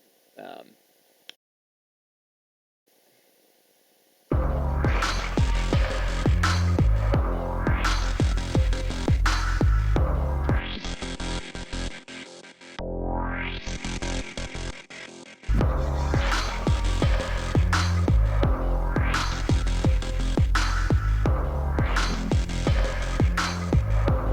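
Choppy, stuttering synthesizer notes pulse rapidly, cut into short bursts, with a couple of rising sweeps and a brief silent gap near the start.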